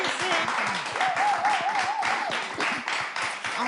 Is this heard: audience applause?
yes